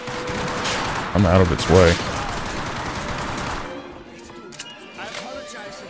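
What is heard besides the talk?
MG42 machine gun firing in video game Hour of Victory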